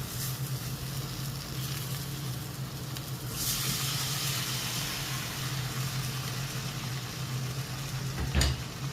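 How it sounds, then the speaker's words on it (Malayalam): Water used to rinse a mixer jar is poured into hot sizzling masala for methi matar malai, a constant loud hiss that surges as the liquid hits, followed by a brief knock near the end. "നമുക്ക് മിക്സി കഴുകിയ വെള്ളം ഇതിൻ്റെ അകത്തേക്ക് ഒഴിച്ചു കൊടുക്കാം"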